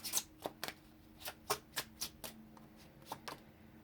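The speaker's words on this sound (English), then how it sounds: "Now let's pull one last card, a closing card." Tarot cards are shuffled by hand in a quiet room, a series of crisp riffling snaps and taps in an irregular rhythm, close and fairly soft with no talking.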